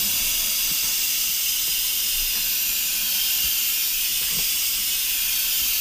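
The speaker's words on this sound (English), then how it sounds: "Now it's still hot in there, it's still generating steam" An Instant Pot vents steam after cooking beef stew, a loud, close, continuous hiss that holds steady at full strength for the whole stretch.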